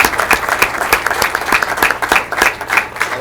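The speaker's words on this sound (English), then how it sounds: "Can you please give them a round of applause?" Audience applause at a school board meeting, a fairly loud burst of clapping hands with a quick, uneven rhythm from a moderate-sized crowd in a meeting room.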